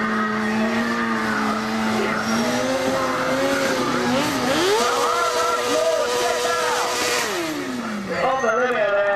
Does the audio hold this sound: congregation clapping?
no